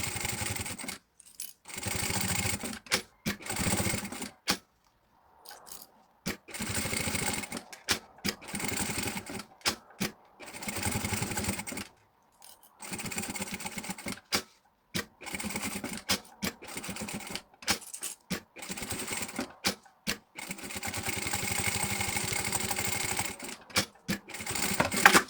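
A sewing machine stitches fabric in close, loud bursts of rapid mechanical chatter, stopping and starting repeatedly with short silent pauses between runs.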